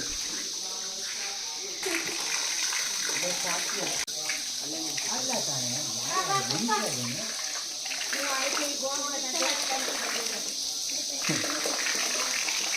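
Water runs steadily from the Kamandala Ganapati spring at the source of the Brahmi river, a soft continuous trickle and gush while people talk nearby.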